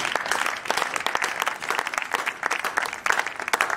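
An audience at a ceremonial exchange of New Year wishes applauds steadily, with dense sustained clapping from a crowd filling the whole stretch, fairly loud and close.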